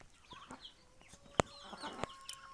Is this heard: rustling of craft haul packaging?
no